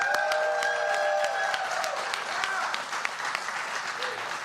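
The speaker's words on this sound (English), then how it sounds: "I want to thank my team back here, and this is some of them here. Round of applause." A crowd at a Kentucky primary election night event gives a steady round of applause for a campaign team, the clapping continuous with a faint whistle and voices mixed in.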